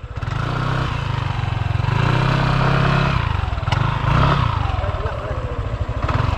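Motorcycle engine from a shooter video game, a steady mid-pitched drone with slight revving swells running throughout, with people talking over it.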